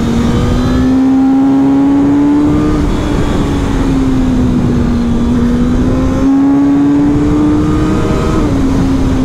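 A Suzuki GSX-S 1000 motorcycle engine roars at full throttle close by, holding a steady high drone with slight pitch shifts as it accelerates through gears, loud throughout.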